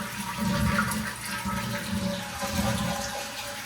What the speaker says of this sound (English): Flush and check for leaks.